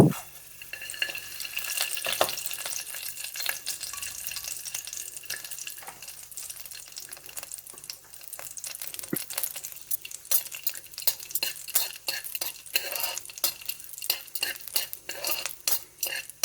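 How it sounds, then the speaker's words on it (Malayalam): Cashews and raisins frying in ghee in a pan over low heat, a steady soft sizzle punctuated by frequent scraping and clinking of a metal spoon stirring, close and continuous with no talking. "കാഷ്യൂനട്ടും നമുക്കൊന്ന് വറുത്തെടുക്കാം."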